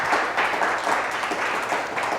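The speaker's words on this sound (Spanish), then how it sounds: "Fuerte el aplauso al Señor." A church congregation applauding, a dense sustained wash of many hands clapping, loud and even throughout.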